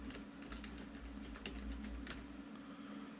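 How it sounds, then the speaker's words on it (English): Keys clatter on a computer keyboard in a short, quiet burst of irregular taps, each stroke distinct and close, with no voices. "I'm gonna just put a little box here and type in"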